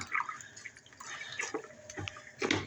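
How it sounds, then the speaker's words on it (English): Grout sponge being rinsed by hand in a bucket of water, with soft sloshing, squeezing and dripping splashes in uneven bursts, close and fairly quiet. "now we'll rinse out our sponge there"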